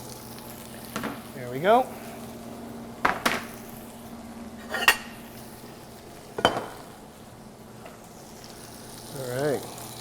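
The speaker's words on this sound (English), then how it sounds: "So we're gonna throw my asparagus in at this point, and a little knob of butter. This is just going to help it brown a bit." Asparagus with a knob of butter sizzling in a hot pan, a steady frying hiss with occasional pan knocks and scrapes as the spears are moved, while someone talks briefly over it.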